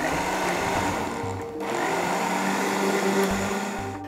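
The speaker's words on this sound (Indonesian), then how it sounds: "Blender." A kitchen blender whirs steadily for about four seconds while mixing pancake batter of flour, egg and vanilla extract, with a brief dip in the motor sound partway through and no talking.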